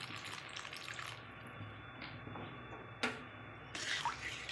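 Water poured into a pan of cooking teasel gourd, a soft trickling splash alone against a quiet kitchen background, with a brief louder pour near the end.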